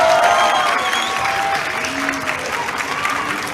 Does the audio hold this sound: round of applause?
yes